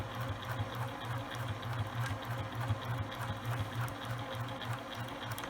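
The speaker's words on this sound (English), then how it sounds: "Back stitch and continuing to sew." A sewing machine back stitches and then keeps sewing a homemade fabric face mask, running in a fast, even mechanical rhythm close by without pause, no voices present.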